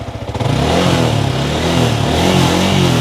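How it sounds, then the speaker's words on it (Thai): A Yamaha XSR155 motorcycle idles with a steady mid-pitched engine note, its licence plate rattling loosely against the bodywork in a continuous buzzing clatter close by, with no talk. "อันนี้เสียงป้ายทะเบียนนะครับ"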